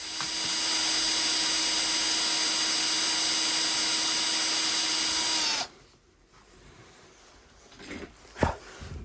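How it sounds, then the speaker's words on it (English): A power drill whirs loudly and steadily for several seconds while drilling a hole in the body of a laparoscopic instrument handle, then stops abruptly, leaving quiet room noise and a couple of small knocks. "I need to drill a hole"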